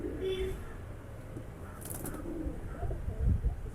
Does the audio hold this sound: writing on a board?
no